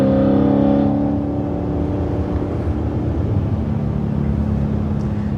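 A BMW E92 M3 drives along, its engine droning steadily and loudly from inside the cabin, a little louder at first and then holding a constant cruising tone.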